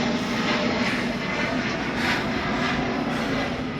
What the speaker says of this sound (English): we live next to the airport, so there's planes going all the time